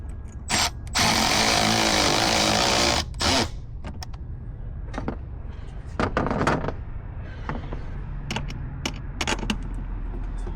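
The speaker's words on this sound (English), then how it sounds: "I'm gonna tighten down the other one now." Tightening a bolt on an intake kit for a 2020+ Ford F250/F350 diesel truck, with a loud power-tool whir of about two seconds, then scattered clicks and clanks from the tool and parts, close by.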